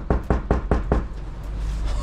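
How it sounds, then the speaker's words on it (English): Five quick, loud knocks on a house door that has no doorbell, during a delivery drop-off, rapping in an even rhythm close by, followed by a quiet background. "I was knocking on the door, but no one answered."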